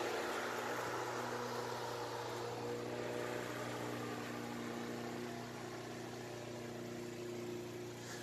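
A lawn mower engine drones steadily and evenly while cutting wide stripes across a lawn, a constant mid-distance hum with no voices over it.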